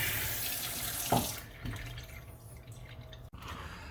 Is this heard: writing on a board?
no